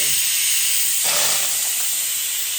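Curry leaves and garlic hitting hot oil in a home kitchen, a loud steady hiss that surges into a sharper crackling sizzle partway through.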